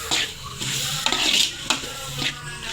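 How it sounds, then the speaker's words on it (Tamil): Ginger and garlic with tomato are sautéed in a pan for a chicken curry, giving a soft sizzle under repeated stirring and a few sharp scrapes and clinks of a utensil against the pan. "இஞ்சி பூண்டு சேர்த்து வதக்கவும்."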